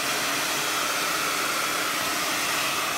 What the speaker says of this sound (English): Now, as you can see with a blow dryer, I can manipulate